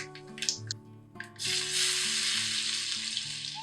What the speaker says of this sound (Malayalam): കടുക് പൊട്ടിക്കഴിയുമ്പോൾ ഇതിലേക്ക് ഒരു 1/2 ടീസ്പൂൺ ഉഴുന്നുപരിപ്പ് ഇട്ട് കൊടുക്കുന്നുണ്ട്.